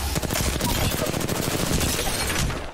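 Rapid automatic gunfire in the Apex Legends video game, a dense burst of close, loud shots rattling almost continuously for a few seconds before stopping abruptly.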